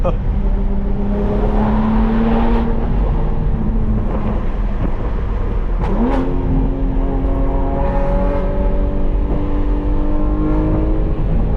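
Lowered BMW M3 accelerating through a canyon road, a loud engine drone heard from inside the car that climbs in pitch through the gears, with a shift near the middle, steady road noise throughout.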